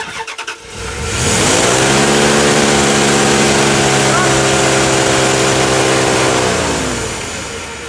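Truck engine with its throttle stuck open, roaring up to a high steady rev almost at once and holding there loud and close for several seconds before easing slightly, with a voice heard briefly.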